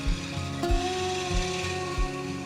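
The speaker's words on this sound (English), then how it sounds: "using the roughing gouge I can get it round" A roughing gouge cuts a spinning wood blank on a lathe, giving a steady close-up rumbling scrape with a low motor hum underneath, and the tool bites in rhythmic pulses roughly every half second.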